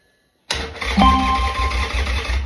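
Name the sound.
carbureted motorbike engine starting up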